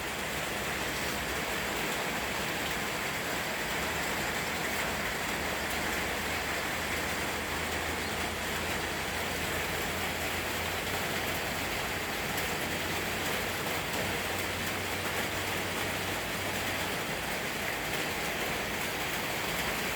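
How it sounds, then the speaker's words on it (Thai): Steady morning rain hisses down continuously in a Thai village, a dense wash of noise with no breaks and no voices, close and enveloping throughout. "บรรยากาศตอนเช้าฝนตกเล่นบ้านหนองอิงครับ"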